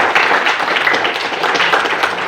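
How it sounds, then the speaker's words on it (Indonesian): Test participants in a room applaud together, a loud, close, continuous patter of many hands clapping without pause. "tepuk tangan dulu untuk kita semua"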